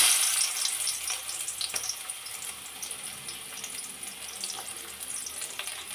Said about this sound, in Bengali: দিয়ে দেবো আমি কিছু পেঁয়াজ কুচি।